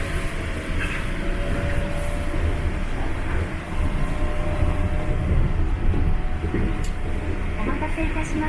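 A passenger train bound for Toyosu in Tokyo rumbles steadily along the tracks from inside a carriage, with a constant low roar and faint rattles.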